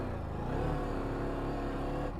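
A Ducati DesertX motorcycle engine accelerates in first gear on soft desert sand, a steady, close, rumbling drone with no talk.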